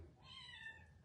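A cat gives a single short meow, faint and distant, over quiet room noise.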